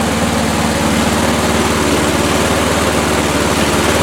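Repaired lawn mower engine running slower than it should, a loud steady close chugging drone with no pauses.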